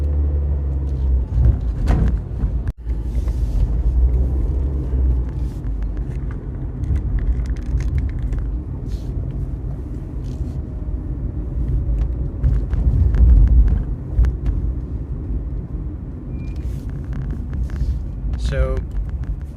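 A car driving through Los Angeles streets past a large homeless encampment, a steady low engine and road rumble throughout with a brief sharp knock early on, while someone talks over it.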